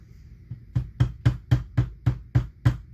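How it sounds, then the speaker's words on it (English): Eight steady metallic hammer strikes at an even pace, each sharp and close, on a screwdriver held against metal while rebuilding a McCulloch Model 73 chainsaw. "So we'll just use a screwdriver and a hammer."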